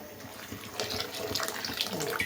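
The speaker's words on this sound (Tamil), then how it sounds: "இல்லை இன்னும் கொஞ்சம் கூட தண்ணி ஊற்றிக்கிறேன்." Water poured into a pot of chili-powder fish curry on a kitchen stove, a steady splashing stream running continuously and close, with no talking.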